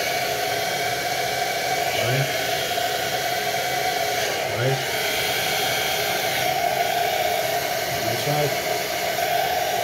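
A hair dryer blows continuously and loudly while a quiff is styled and dried, with a steady airy roar, a few brief bumps and a short spoken phrase underneath.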